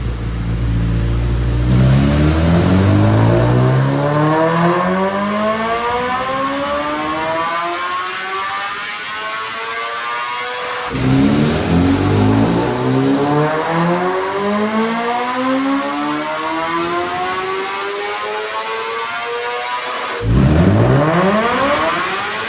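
A 2025 BMW S1000RR sport bike with a BT Moto Stage 2 install, running on MR12 fuel on a dyno, screams through repeated rising full-throttle pulls, each climbing to a high wail before cutting off and starting again, loud and close.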